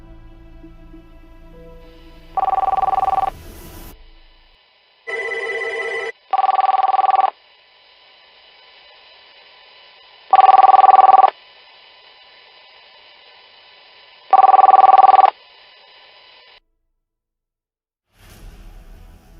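Phone ringback tone heard while calling, with several separate ring bursts spaced a few seconds apart and silence between them, clear and close.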